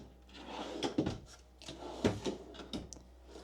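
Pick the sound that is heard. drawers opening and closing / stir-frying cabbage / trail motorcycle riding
drawers opening and closing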